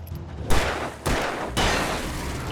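Three loud, sharp gunshots ring out about half a second apart during combat in Alan Wake (2010), each burst decaying briefly into the next, with no talking.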